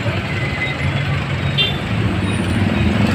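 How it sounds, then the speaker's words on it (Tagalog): Rush hour street traffic with tricycles, jeeps and motorbikes in a Philippine town, a dense steady rumble of idling and passing engines close by, loud and continuous with brief higher mechanical whines. "May tricycle, may jeep, may motor, kasi po rush hour na po ang oras na ito."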